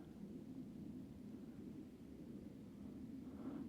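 A distant, low roar from a jet flying at about 30,000 feet rumbles steadily throughout, a faint broad drone high overhead with no other sounds.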